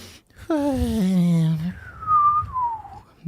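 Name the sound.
imitated little nose whistle while sleeping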